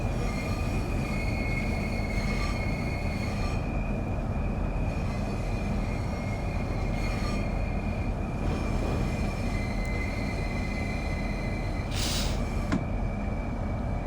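In a train simulator game, a Thameslink train accelerates out of St Pancras International with a constant loud rumble of wheels and traction, thin steady whines riding above it and a short hiss near the end.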